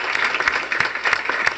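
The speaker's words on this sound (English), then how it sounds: "let's give the team managers a round of applause" An audience at a Centerville Board of Education meeting applauds the team managers, with dense, steady clapping from many hands filling the whole stretch at a fairly loud, even level.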